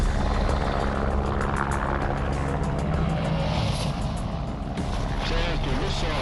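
Steady rotor and engine roar of a rescue helicopter on Mount Everest, loud and continuous throughout with no breaks.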